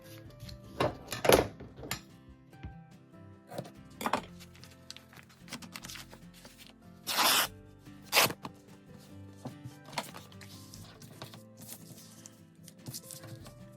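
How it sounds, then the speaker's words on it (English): Fabric torn by hand while making journal covers from packaging, heard as several sharp ripping bursts scattered through the stretch, with quieter rustling and handling noises in between and no talking. "You can see what I mean by how the fabric doesn't always tear straight"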